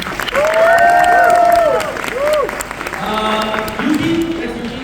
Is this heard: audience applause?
yes